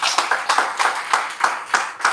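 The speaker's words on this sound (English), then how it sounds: "Can we give him a very big hand clap?" An audience at a live wellness company anniversary event claps together in a brisk, steady rhythm, a dense burst of hand claps heard up close with no voices over it.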